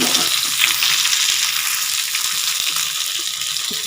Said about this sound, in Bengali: আমি এই ফার্স্ট টাইম ভাজছি পিঠে